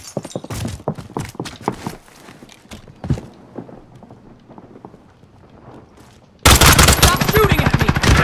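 Gunfire in Call of Duty Warzone comes in scattered sharp cracks and short bursts over several seconds, some near and some farther off, then erupts into a loud, sustained barrage.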